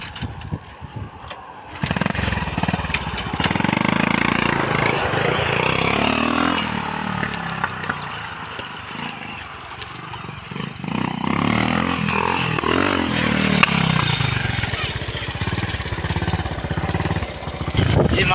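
Motorbikes bought in Malaysia starting up and running, a rough engine drone that swells and idles at close range for a long stretch, with occasional voices.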